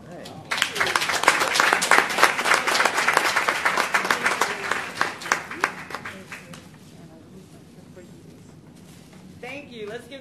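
Audience applause at a school board meeting for student presenters, a dense burst of clapping for several seconds that thins out and fades, with a voice speaking near the end.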